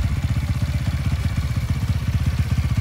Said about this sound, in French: Premier démarrage.